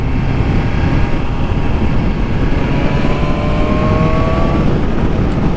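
A 2020 BMW S1000RR sportbike pulls hard in sixth gear, its loud, steady engine roar rising slowly in pitch beneath heavy wind rush, close up and continuous.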